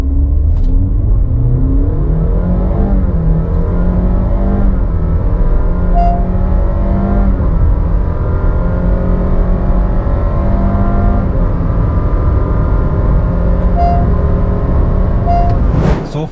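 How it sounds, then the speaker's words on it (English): Honda City Hybrid e:HEV with eCVT accelerating hard from 0 to 100 km/h, a steady loud engine and electric-motor drone with smoothly rising pitch, continuous throughout with no gear-shift breaks and no talk. "the 0 to 100 run coming up on your screen of the Honda City Hybrid"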